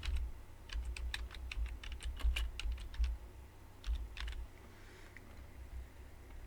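A file name typed on a computer keyboard: quick bursts of close, crisp key clicks in uneven runs, pausing briefly before a few final taps, with no voice.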